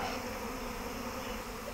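A swarm of honeybees crowds around a hive while following their queen, a dense, continuous, close buzzing drone that never lets up.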